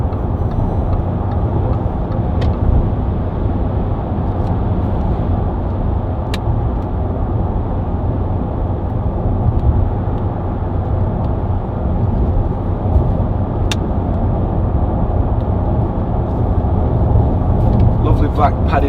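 A Range Rover 4.4 TD V8 Westminster diesel cruises on a motorway, its engine and road noise a steady low drone inside the cabin, with talking over it.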